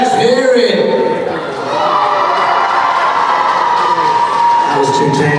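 Athletics fans in a stadium let out a loud, continuous mass of cheering and whooping in support of the athletes, with a voice talking over the roar.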